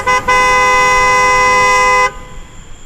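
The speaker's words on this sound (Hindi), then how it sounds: "पास में आकर कार वाला जोर जोर से हॉर्न बजाता है।" A car horn blares loudly in two blasts, a short toot followed by a long sustained honk that cuts off abruptly.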